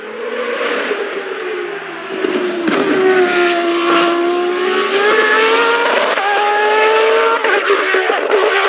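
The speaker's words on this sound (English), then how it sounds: "let's take a listen to this beast heading up the hill at Goodwood" A Williams Canon Formula 1 car climbing the hill at Goodwood, its loud, close engine holding a high, harmonically rich note that rises as it accelerates up through the gears.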